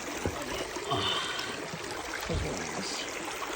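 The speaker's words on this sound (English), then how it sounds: "just to sit and listen to just how the water sounds" Stream water flowing along the Monrovia Waterfall trail, a steady broad rushing and trickling wash heard close by, with a person speaking briefly over it.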